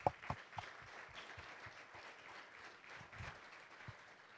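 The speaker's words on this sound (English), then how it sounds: "So please give them a round of applause." Applause from a luncheon audience at a chamber of commerce event held at a Hilton Garden Inn: a few distinct claps open it, then a fairly soft, steady patter of many hands continues, heard from some distance.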